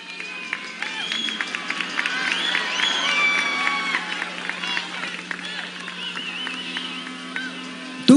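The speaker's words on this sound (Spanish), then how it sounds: "Fuerte el aplauso para él." A large crowd at a campaign closing rally in Quito applauds and cheers loudly and steadily as a speaker is introduced, with shouts rising over continuous clapping and a voice over a loudspeaker.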